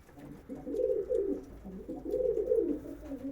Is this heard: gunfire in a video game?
no